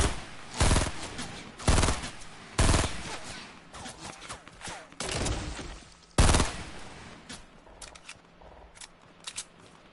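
Gunshots from an online multiplayer shooter video game, a string of sharp, loud cracks spaced irregularly a second or two apart, with quieter shots and rumble between and no one talking.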